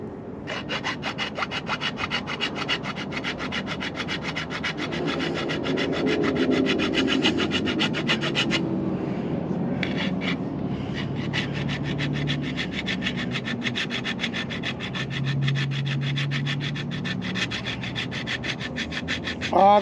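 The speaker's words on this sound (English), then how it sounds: "these were all done by hand with a hacksaw" Metal being cut by hand with a hacksaw gives steady rhythmic back-and-forth rasping strokes, close and clear, with a short pause midway before the sawing resumes.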